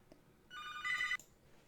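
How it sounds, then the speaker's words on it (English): A telephone gives one brief electronic ring, clear and moderately loud over a quiet room, then cuts off abruptly. "And there's the phone."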